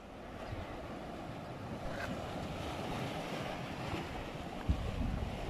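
Seaside waves washing on a beach by cottages, a steady low wash of surf under wind buffeting the microphone, fairly quiet with no talking.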